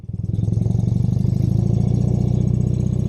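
A 1971 BMW R75/5 shaft-drive motorcycle running steadily up close, its engine a loud, even throb with a fast regular pulse that holds from start to finish.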